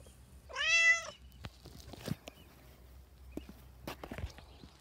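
A single drawn-out meow rings out clearly near the start, followed by soft scuffling and light footsteps; any purring is too faint to pick out.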